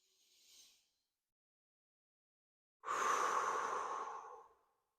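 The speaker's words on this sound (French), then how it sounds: "une respiration profonde comme celle-ci" Deep, slow meditative belly breath: a soft faint inhale followed after a pause by a long, louder airy exhale lasting nearly two seconds, close and alone.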